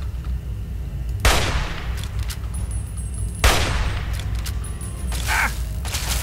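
Gunfire in the video game Fallout 3 comes as two heavy, booming shots about two seconds apart over a dense rumbling ambience, followed by a fainter third burst.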